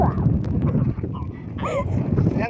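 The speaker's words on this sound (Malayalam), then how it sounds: "സൂപ്പർ കാറ്റാണ് കേട്ടോ എനിക്ക് ഇവിടുത്തെ കാറ്റ് എനിക്ക് ഭയങ്കര ഇഷ്ടം" Wind buffets the microphone in a steady, rumbling roar, with a few faint higher calls or voices drifting through.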